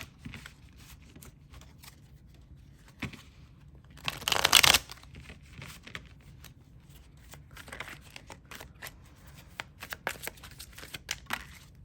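Tarot cards are handled and shuffled, a soft papery riffle with scattered taps and one louder burst of rapid card flutter partway through, close and without talk.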